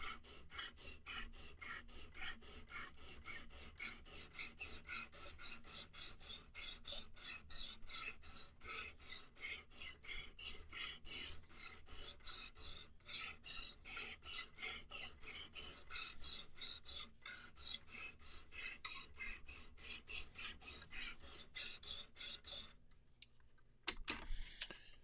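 A knife blade is stroked steadily across a sharpening stone to refine the burr, a dense run of rapid rasping scrapes that continues almost unbroken, close and fairly quiet, ending with a few sharper knocks.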